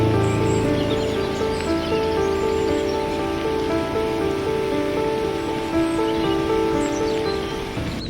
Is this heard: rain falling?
yes